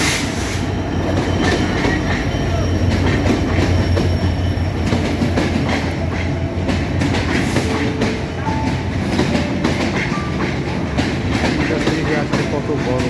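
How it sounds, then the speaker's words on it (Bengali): A passenger train arrives at Santahar Junction station, a loud continuous rumble with clickety-clack wheels and some squeal, while indistinct voices sound around the platform. "দেখতে পাচ্ছেন সেই ট্রেনটি অলরেডি চলে আসছে।"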